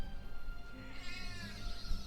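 A cat in a video game lets out a drawn-out, wavering meow partway through, heard over a dense game soundscape.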